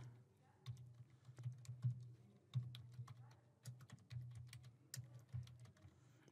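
Typing on a computer keyboard while filling in a customer's email address on a checkout page: quick, irregular clusters of close, light key clicks with brief gaps between bursts.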